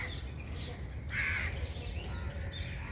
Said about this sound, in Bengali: অনেকগুলি পাখির কিচিরমিচির আওয়াজ শোনা যাচ্ছে।